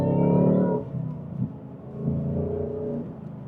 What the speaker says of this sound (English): you would have heard the supercharger as well